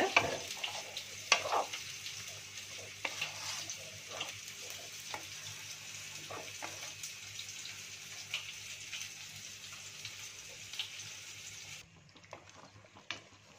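Turmeric and sugar are stirred into red lentils cooked with banana flower, giving a soft simmering hiss with repeated scraping and tapping stirs, quieter toward the end.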